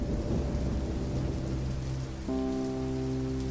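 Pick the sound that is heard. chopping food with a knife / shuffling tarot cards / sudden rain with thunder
sudden rain with thunder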